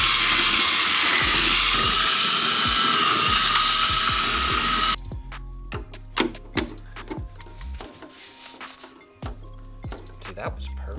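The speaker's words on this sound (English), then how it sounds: "I gotta drill them out, dude" A steady, loud whirring drill runs for several seconds, drilling holes in an 8th-generation Honda Civic Si spoiler, then stops, leaving clicks, clatter and tool handling noises.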